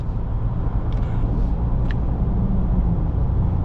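A 2021 Ford Ranger XLT cruising on the highway at 100 kph at about 1,600 RPM, steady low road and engine rumble heard from inside the cabin, with a couple of faint ticks and no talking.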